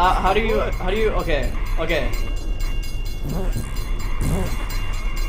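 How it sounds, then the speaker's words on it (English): A train rumbles past in the video game Delay Llama, a steady low rolling drone with faint clatter beneath a person talking over it. "There's a train coming and I'm already late."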